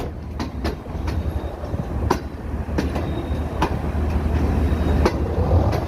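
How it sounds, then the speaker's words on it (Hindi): Karakoram Express passenger train rolling along the tracks through a turn, a steady loud rumble with repeated wheel clicks over rail joints and faint wheel squeal, heard close from on board. "अब आप ट्रेन देखें आगे से टर्न होते हुए"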